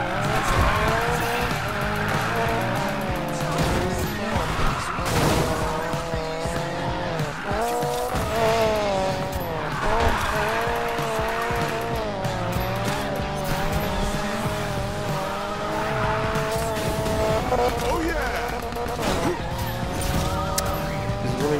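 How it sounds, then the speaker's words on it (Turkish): Racing car in the video game Need for Speed Payback drifting, its engine roaring steadily with long tire squeals layered over a busy game soundtrack for the full stretch, no talking. "Ben burada nasıl drift yapayım abi? Araba kaymıyor ki."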